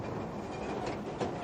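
Electric train driven by four motors and fed from a live rail, running steadily along the track with a continuous broad rumble and a brief louder clack near the end, no talk.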